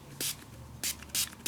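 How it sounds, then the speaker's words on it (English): Tattered Angels Glimmer Mist sprayed from a pump bottle in four short, bright hissing bursts, each about a tenth to a fifth of a second long, close by and with no talk. "we're gonna have to spray a lot of it and let some of that drip off"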